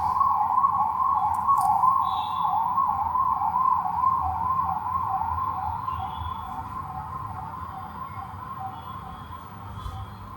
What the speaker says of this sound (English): we'll let the ambulance pass.